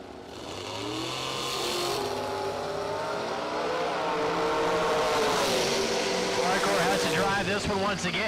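Drag racing cars, a Roadster and a first-generation Chevrolet Camaro, launch with a loud, sustained engine roar that rises in pitch and builds over several seconds, with a commentator talking over it.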